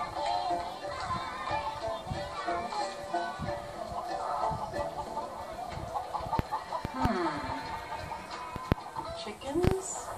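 Chickens cluck and chatter in a busy jumble close by, with occasional sharper squawks and knocks, while a voice talks over them.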